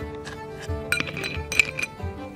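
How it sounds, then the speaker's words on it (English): Ice cubes clinking into a glass, several bright separate clinks in quick succession, close and fairly quiet, no talk. "Fill a glass about halfway with ice."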